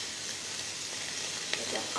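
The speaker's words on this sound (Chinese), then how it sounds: "煎煎咸鱼。" Salted fish fries in a hot pan with a steady, dense, fairly soft sizzle of spitting oil that holds evenly throughout, with one small pop near the end.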